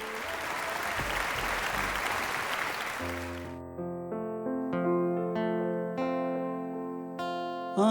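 Audience applause welcoming a performer onto a stage at a police talent show, a dense burst of clapping for about three seconds before band music with sustained tones takes over.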